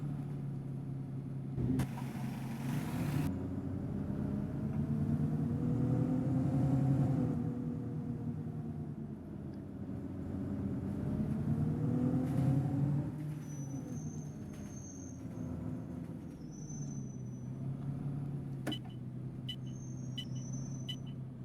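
London Citybus C400 bus engine in OMSI 2 on the Smarden route 304, steady low diesel rumble rising and falling with acceleration, a brief air hiss near the start and small chimes later.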